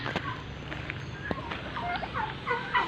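Turkeys gobble repeatedly on a small mini farm in San Mateo, several bubbling calls rising over a steady low background hum with faint talk nearby.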